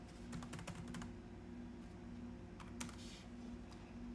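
Faint, continuous typing of a search on a computer keyboard, a rapid patter of soft key taps over a steady background hum.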